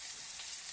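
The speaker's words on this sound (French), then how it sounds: "j'allume mon gaz là-bas pour le saumon qu'on va cuire côté peau" A salmon fillet fries skin side down in a pan over a gas flame, making a steady, soft high sizzle. It is brief, even and close, with no talking.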